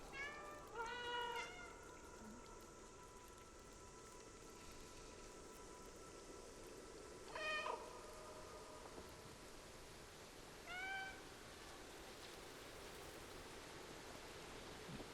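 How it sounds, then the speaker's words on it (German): A cat meows in the video game Stray, a couple of separate harmonic meows heard near and clear against a steady hissy ambient background, with quiet gaps between calls. "Drücke zum Miau."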